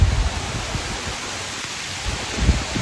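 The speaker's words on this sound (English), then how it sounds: "it's starting to rain on us a little bit" Light rain begins to fall outdoors during a Kansas–Missouri deer hunt, a soft broadband hiss with low rumbling swells at the start and end, close and fairly loud.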